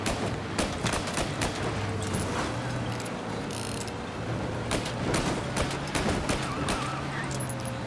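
Rapid bursts of gunfire in the video game Mafia: Definitive Edition crackle over a mechanical, clattering background, with sharp repeated shots scattered throughout.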